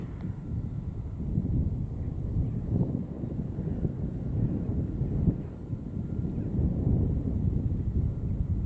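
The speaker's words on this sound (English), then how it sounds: "That wind's back." Wind gusting across an outdoor long-range shooting range, a steady low rumble buffeting the microphone with swelling gusts throughout.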